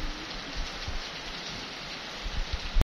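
Steady rain falls outdoors on a rainy day, a continuous close hiss of drops with a few louder patters near the end before it cuts off.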